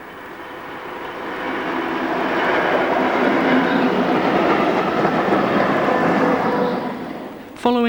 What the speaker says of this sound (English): Railtrack have retained some former subunits dating from 1946 for sandite and